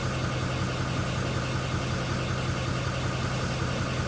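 A car engine idles at about 639 RPM while being read by a diagnostic scan tool, a steady low hum with an even mechanical thrum and no revving, alone without talk.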